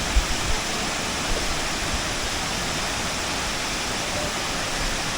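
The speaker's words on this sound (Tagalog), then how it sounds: "Napakaganda ng falls" Constant loud roar of Balagbag Falls waterfall in Real, Quezon, heard close up as a dense, unbroken rush of falling water with no other sounds standing out.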